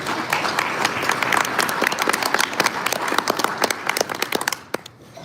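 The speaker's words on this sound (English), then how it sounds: "Let's give him a round of applause." A banquet crowd at a community organization's annual event breaks into lively applause, many hands clapping in a dense, bright patter that thins out toward the end.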